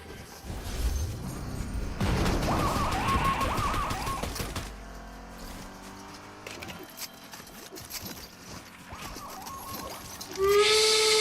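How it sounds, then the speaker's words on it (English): Video game steam whistle blowing in repeated shrill hooting bursts over a busy hissing, clattering background, loud and close, with a brighter sharp blast near the end. "There's the steam whistle"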